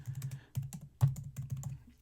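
Close computer keyboard typing in quick clusters of light key clicks separated by brief pauses, no talking.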